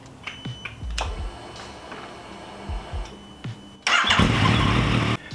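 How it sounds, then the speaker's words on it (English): A Yamaha XSR900 motorcycle engine cranks with a few short starter bursts, then catches and runs loud and close for over a second before cutting back, with some clicking and handling noises around it. "I'm gonna fire up the bike and get this new oil circulating through the engine."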